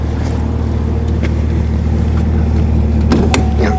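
A 2018 Chevrolet Camaro ZL1 sits idling with its engine running steadily and loud up close, a deep continuous rumble broken by a few faint clicks and knocks toward the end.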